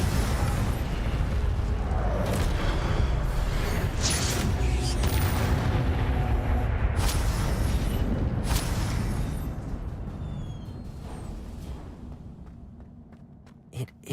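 In Hogwarts Legacy, Incendio fire spells are cast as a dense run of booming, crackling bursts of flame that stays loud for about nine seconds, then thins and fades to sporadic pops.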